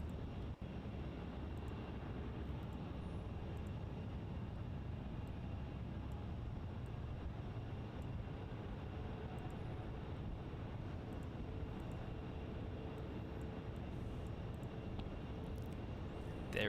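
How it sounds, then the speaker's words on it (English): An Air India airliner begins its takeoff roll on runway 34 at Melbourne Airport, a steady distant jet engine roar with broadband rumble that holds level throughout, heard from afar with no talking. "And Air India is now going to start rolling on 3-4."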